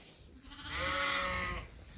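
Sheep bleat in lambing jugs on a sheep farm during lambing season, one loud drawn-out bleat swelling near the middle and fading, close by with steady barn noise around it.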